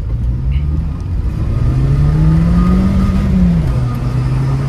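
A Renault Clio with a 1.6 naturally aspirated engine revs up close and loud, pitch climbing smoothly under throttle, holding high, then easing back down into a steady idle.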